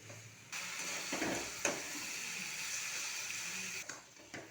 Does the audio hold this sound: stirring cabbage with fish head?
yes